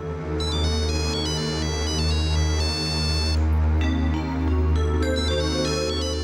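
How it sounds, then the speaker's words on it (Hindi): A phone ringtone plays loudly and continuously, a bright repeating melodic ring over a steady low hum, with no talking. "माँ मीरा का फोन ह"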